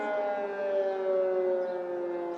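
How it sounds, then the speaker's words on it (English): An air raid siren sounds over Kyiv during the Russian invasion, a steady sustained wail with a slight slow pitch drift, distant but strong, carrying alone without speech. "I will stay quiet for a couple of minutes there until the sirens go, so you can hear what is happening on the ground."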